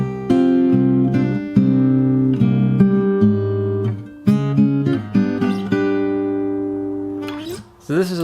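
Fingerstyle acoustic guitar plays a passage of a theme, picked notes and chords ringing close and clear in a steady phrase with no talking over it.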